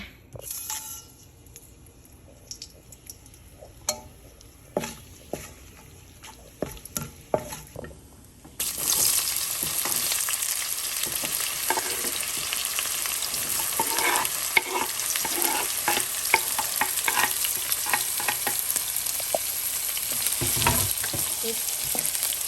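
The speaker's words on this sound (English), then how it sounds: "we fried the rye and the green chili" Mustard seeds and chopped green chilies hit hot oil for masala dosa filling: scattered clicks give way to a sudden, sustained loud sizzle with repeated scraping stir strokes, close by.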